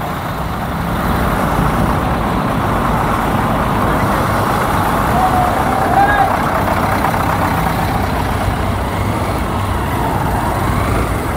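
Dense Mumbai road traffic heard from a moving motorbike, a constant loud rumble of engines and wind, with a faint horn toot midway.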